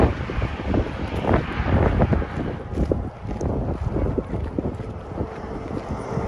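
Strong wind gusts buffeting the microphone on an open roadside walk near Duchesne, Utah, a continuous loud low roar rising and falling in waves, close and rumbling, with no clear speech.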